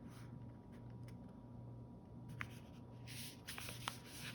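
Paper is folded in half and pressed flat, producing soft crinkles and brief rustling scrapes, a few sharper creases near the end, faint and close against a quiet room hum.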